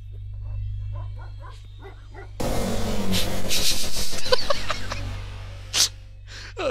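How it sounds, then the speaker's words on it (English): A dog in a horror video game yelps a few times, then a loud, sustained burst of violent crashing noise erupts as it is killed, ending with a couple of sharp hits. "That dog just got fucking destroyed."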